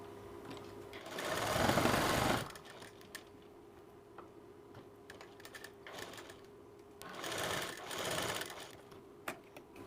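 A sewing machine stitches a blouse shoulder seam in two loud, close bursts of fast mechanical whirring and ticking, separated by a quieter pause with faint handling clicks.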